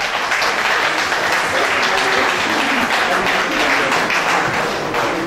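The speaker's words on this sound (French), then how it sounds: "On les applaudit encore une fois," A dinner audience at a Lions Club charity event applauds, dense steady clapping from many hands filling the room throughout, close and loud.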